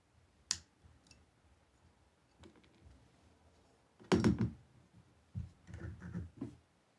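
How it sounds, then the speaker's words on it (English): A knife whittles into the rubber core of a golf ball, making a few sparse, close cutting clicks and scraping bursts separated by quiet gaps. "I suppose this is what it's like to cut into a rubber ball."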